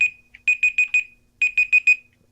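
A quiz timer buzzer marks the end of answer time with two quick bursts of rapid electronic beeps, each a run of four or five shrill pulses, loud and alone.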